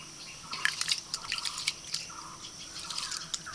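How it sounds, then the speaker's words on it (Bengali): Water drains from washed Gobindobhog rice in irregular, close drips and light trickles, some bunched together, over a quiet background. "কারণ চালের জলটা ঝরাতে হবে।"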